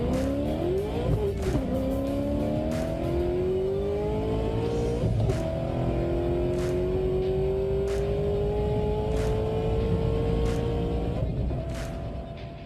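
A 1992 Ford Mustang drag racing a Honda Civic down the track, a loud engine roaring and rising in pitch through the gears, with tire noise, then fading slightly at the end.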